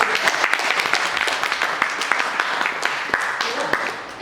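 An audience applauds a playwright at a Hindi stage play performance, a steady wash of many hands clapping close and loud, with a few sharper claps rising above it throughout.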